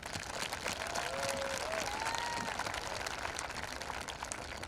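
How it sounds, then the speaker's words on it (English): Steady, dense applause from a crowd at a high school commencement ceremony for the class of 2021, sustained evenly throughout, with a faint whistle or cheer rising briefly early on. "Students, let's give our families a round of applause."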